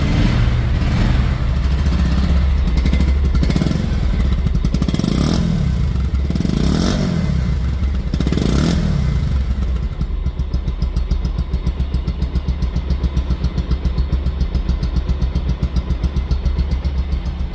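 A 2023 Bajaj Pulsar single disc motorcycle runs close by, its engine revved in several short bursts before settling into a steady, pulsing idle.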